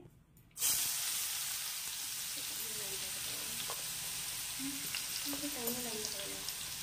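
Steady sizzling of food frying in hot oil, a continuous bright hiss with occasional faint pops, starting abruptly after a brief quiet moment.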